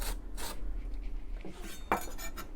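A spoon scrapes the seeds out of a halved chili pepper with short, light scratching strokes and an occasional faint clink, close up with no talking.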